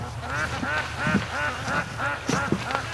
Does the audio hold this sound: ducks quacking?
yes